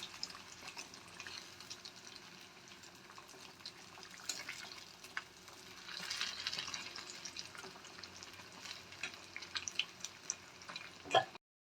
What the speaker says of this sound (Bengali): এরকম লাল করে আমরা ওই পিঠটাও ভেজে নেব